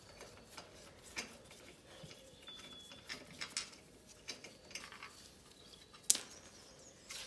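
Wheel bolts are loosened and removed from a Peugeot 208, a series of faint ratcheting clicks and metallic ticks, with a sharper clank near the end.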